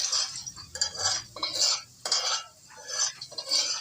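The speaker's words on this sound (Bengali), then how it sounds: "পেঁয়াজগুলো নাড়াচাড়া করে ভালোভাবে ভেজে নিব" Onions stirred while frying in a pan for a beef tripe curry, a spoon scraping and clinking against the pan in quick, irregular strokes over a soft background sizzle.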